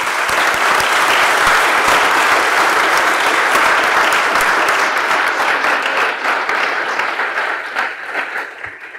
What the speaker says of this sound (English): I was hoping we could all give the competitors a round of applause